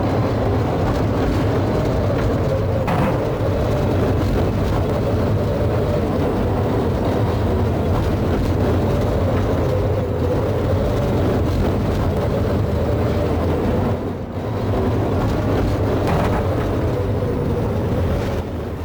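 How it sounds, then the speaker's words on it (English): Engine of a Talbot Lago racing car during the 1950 Monaco Grand Prix: a steady, loud, continuous roar that holds for nearly twenty seconds, with one brief dip near the end. "I'll let you enjoy the sound of the engine for now."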